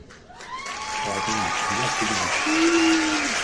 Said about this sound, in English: a round of applause for El Maestro Richie Ray